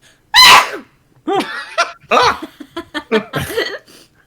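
One loud, close sneeze bursts out near the start, followed by a person talking.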